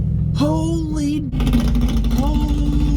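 A nitrous-fed shop truck accelerates hard at a drag strip, its engine roaring loud and close with a rising pitch, briefly cutting before surging again under a continuous dense roar.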